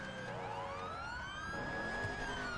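A police car siren wails in a GTA game, its rising and falling tone sweeping steadily over a low engine rumble, fairly close and alone without speech.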